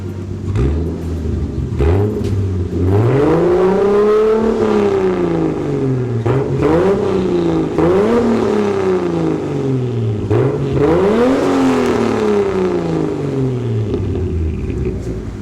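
A warm Toyota Supra RZ engine revved repeatedly, each blip climbing and falling back over a steady idle rumble, close and loud with no talking.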